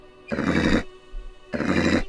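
Two loud, close horse neighs from the Black & White game, each a harsh half-second whinny separated by a brief pause.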